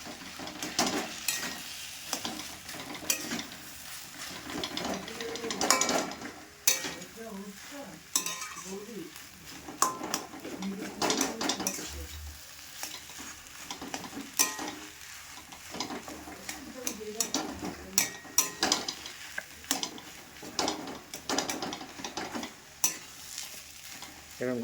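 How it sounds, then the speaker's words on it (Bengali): Potatoes stirred and mixed in a pan with onions fried earlier, a spoon scraping and clinking steadily against the metal over a soft ongoing sizzle for a long stretch, with occasional speech in the background. "আলুটাকে খালি নাড়াতে হবে, একসাথে মিশাতে হবে"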